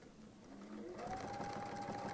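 A sewing machine stitching, a steady close mechanical whir that starts a little softer and then runs at a constant loud hum, with a faint voice in the background.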